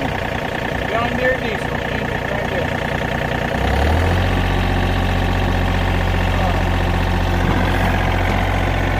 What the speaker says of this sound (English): That's your sweet sound, John Deere diesel engine right there.